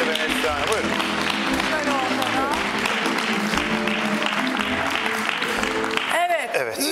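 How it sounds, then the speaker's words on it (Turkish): A studio audience on the Turkish matchmaking show Evleneceksen Gel applauds steadily, loud and continuous, blended with music and voices throughout. "Alkışlıyor Seval ve Neslihan'a."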